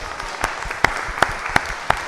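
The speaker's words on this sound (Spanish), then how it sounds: "Gabriel dice que hagamos un aplauso por las hallacas del mediodía." Scattered applause from people at a meeting in honour of midday hallacas, a few sharp separate claps over a low, steady room murmur, sparse and not very loud.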